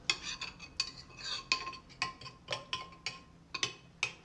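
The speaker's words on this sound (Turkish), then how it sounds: "Şimdi bunları böyle güzelce karıştırıyorum." A spoon stirs a spiced meat mixture in a bowl, giving close, crisp clinks and scrapes in a steady rhythm with no voices.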